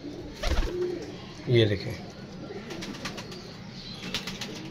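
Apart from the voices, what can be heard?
pigeon cooing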